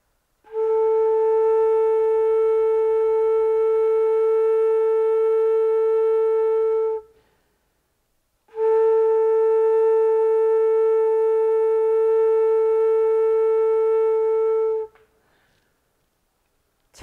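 A daegeum (Korean bamboo flute) plays two long, steady held notes with correct tone, separated by a brief pause, clear and pure with a faint breathy edge.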